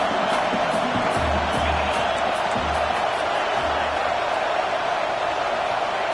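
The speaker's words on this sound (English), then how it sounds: "Listen to this crowd just shaking the girders of this place trying to help their defense." A football stadium crowd at an Oregon game roars in a loud, sustained wall of cheering and noise, with low thumps beneath the continuous din.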